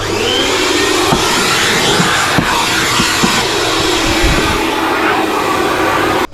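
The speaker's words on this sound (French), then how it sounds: "Un petit coup d'aspirateur." A vacuum cleaner roars steadily and loudly up close inside a 4x4 van being fitted with furniture, with faint knocks and bumps from the nozzle against surfaces.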